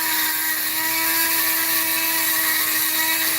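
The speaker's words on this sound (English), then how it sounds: "And I do put this Dremel, the one I have here, into a vise from time to time." A Dremel rotary tool cuts into rock such as opal or turquoise, producing a loud steady high-pitched whine that holds one tone throughout without pause.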